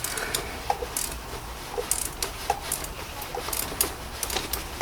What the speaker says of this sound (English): you can just get your wrench and close that